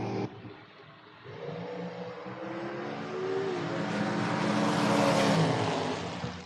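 A drag race with a Corvette door car and a dragster launching down the track, engines rising from a quiet start into a loud, sustained roar that builds and then cuts off abruptly.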